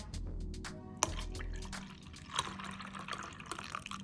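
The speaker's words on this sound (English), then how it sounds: "you're gonna start off by adding the unsweetened almond milk, that same Fairlife skim milk" Unsweetened almond milk and skim milk being poured into a container, a quiet trickling and splashing of liquid with a few drips, close and soft, no speech.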